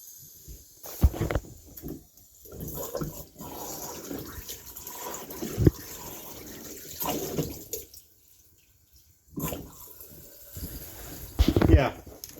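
Cold water from a valve set into a wall runs in bursts of splashing flow in a run-down property, alternating with pauses and overlapping speech nearby.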